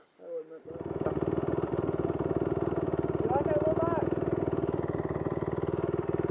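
A motorcycle engine runs at a steady, throbbing idle-like drone, close and continuous, while people talk over it.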